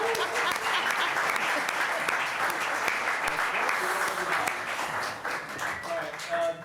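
A town council meeting audience applauds steadily and loudly for several seconds, a dense wash of clapping with a few voices mixed in.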